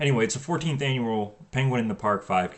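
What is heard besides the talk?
No distinct noise like a dog, phone or traffic.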